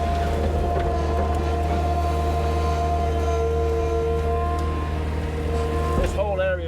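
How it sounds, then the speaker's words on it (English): Tractor engine left idling on a farm, a steady low droning tick-over that runs continuously and fairly loud, with a brief shift near the end. "So I've left the tractor just tick it over."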